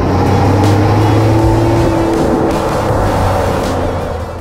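A 2022 Ford Bronco Wildtrak's 2.7-liter EcoBoost twin-turbo V6 runs at a steady, loud, close-up drone with a constant low hum. It eases off slightly toward the end.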